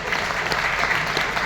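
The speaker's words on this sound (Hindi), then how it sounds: "जोरदार तालियां, हाथ उठाओ।" Audience applause at an annual program event in Kolkata, a steady, dense crowd clapping that holds evenly throughout at close range.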